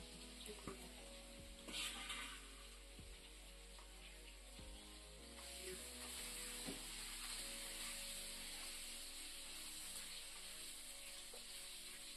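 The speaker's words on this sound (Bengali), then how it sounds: "সজনের ডাঁটা, মিষ্টি আলু, এমনি গোল আলু, পেঁপে, এগুলো এখন তেলে দিয়ে কষাবো" Steamed drumstick, sweet potato, potato and papaya sautéing in hot oil, a steady close frying sizzle with occasional stirring clatter, growing slightly louder and denser midway through.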